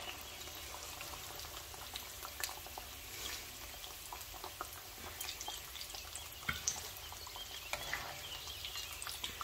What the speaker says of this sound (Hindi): बाकी के जो बचे हैं उनको मैं इस तरह से फ्राई कर लूँगी